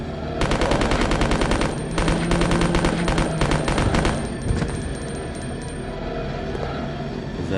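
Rapid automatic gunfire from the Resident Evil Code Veronica video game, loud sustained bursts with short gaps that fade to a quieter tail near the end.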